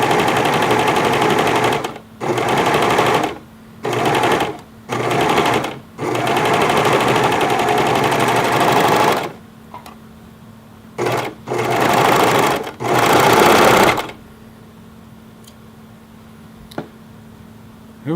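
A Singer Heavy Duty serger stitches knit fabric in a series of loud, close mechanical bursts, stopping and restarting several times before it falls quiet with faint clicks.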